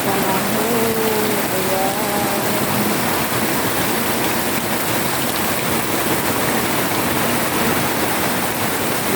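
Heavy rain pours down with thunder and lightning in a dense, constant hiss, loud and unbroken throughout, with faint faraway sounds buried beneath.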